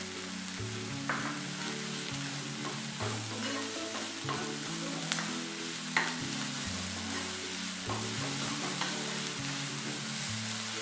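Drumstick leaves and onion sautéing in a pan with salt, a steady soft sizzle broken by occasional stirring scrapes and clinks against the pan, close and moderately quiet with no talk.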